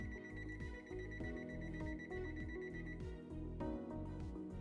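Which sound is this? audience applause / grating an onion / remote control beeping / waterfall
remote control beeping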